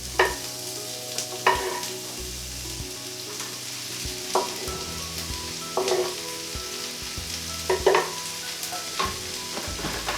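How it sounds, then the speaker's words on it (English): Mushrooms frying with browned onions and garlic in a pan for a vegan butternut squash nut roast, a constant sizzle broken by periodic scraping bursts of stirring, with no talking. "Then we just need to start stirring that straight away without spilling any of the mushrooms"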